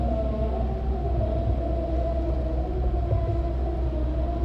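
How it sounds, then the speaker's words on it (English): Starship launch tower chopstick arms groaning as they lift Booster 10, a low continuous rumbling drone with faint tonal moaning layered over it, steady throughout. "You can hear the chopsticks groaning."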